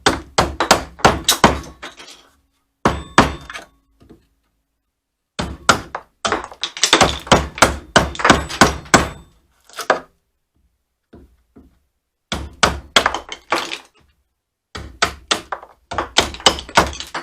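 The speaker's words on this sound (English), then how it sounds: "So now I got my soft face hammer, and I'm going to use them on my chisels, and you'll just see these things come out extremely easy." A soft face hammer taps chisels out of their holder in bursts of rapid, solid knocking thuds, close and loud, separated by short silences.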